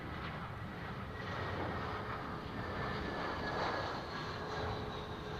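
A Dash 8 turboprop in old livery at Heathrow makes a continuous, moderately faint engine drone with a thin high whine running through it, heard alone for several seconds.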